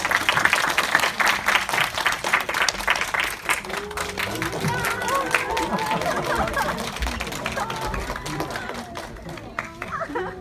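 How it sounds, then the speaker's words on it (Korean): Audience applause greets the child actors at a premiere screening of the film Our House: dense clapping fills the room at first, then thins out beneath crowd chatter and a voice, fading by the end. "큰 박수로 맞이해주세요."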